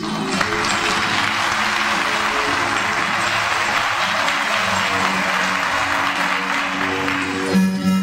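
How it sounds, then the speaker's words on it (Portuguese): A studio audience at a 1997 televised music show gives sustained, even applause, loud and full, with faint musical tones underneath and no break in the clapping. "Receba o aplauso dessa plateia querida"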